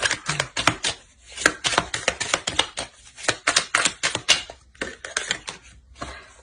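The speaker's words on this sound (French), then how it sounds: "Et je mélange le jeu." A deck of tarot cards shuffled by hand, with crisp, rapid riffling and tapping in quick irregular bursts, close and clear with short pauses between.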